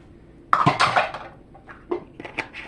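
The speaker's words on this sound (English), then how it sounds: "just mix this all up together real well" Cornbread batter for Mexican-style cornbread is stirred together with oil in a bowl, giving a burst of close, wet scraping and clatter that fades into softer, intermittent utensil taps, with no talking.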